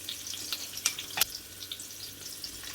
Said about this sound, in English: About 10 curry leaves. The popping sounds are what you want to hear.